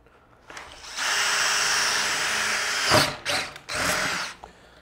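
A drill bores a 1/4 inch hole for DeWalt bandsaw hardware, a steady close whine lasting a couple of seconds, then two or three short bursts as the bit finishes, with no talk.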